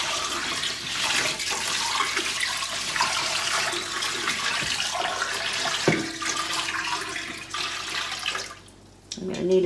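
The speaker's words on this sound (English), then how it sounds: "I'm just going to pour this water in the jars. I'm going to fill the jars up with the water." Water poured from a pan into canning jars for homemade blueberry jam, a steady close splashing and trickling that runs for several seconds before tapering off.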